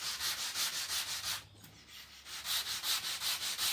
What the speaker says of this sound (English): just doing a few more bits of sanding up and down just to make sure it is correct throughout